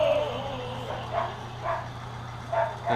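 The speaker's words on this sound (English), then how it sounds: "And of course my dog hears things and likes to make noise." A dog gives a few short, muffled barks at a distance, spaced irregularly over a low steady hum.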